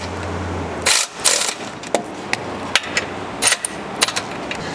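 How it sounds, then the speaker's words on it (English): Powered ratchet driving front bumper bolts on a GX 550, short sharp whirring bursts and clicks separated by pauses over a low background hum, close by. "You can get in here with a powered ratchet like this or an air ratchet"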